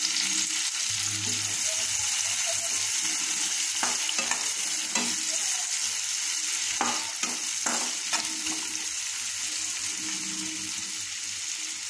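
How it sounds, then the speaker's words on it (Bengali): Chopped onion frying in a pan with oil for a hilsa fish dopiaza, a steady even sizzle throughout with a few scraping stirs in the middle. "এবার আমি দিয়ে দেব এর মধ্যে পেঁয়াজ কুচি।"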